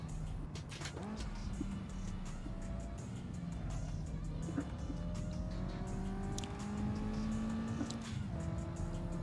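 Mazda Miata engine in a drifting video game, a continuous revving drone with shifting pitch and sliding tyre squeals layered over it, steady and moderately loud.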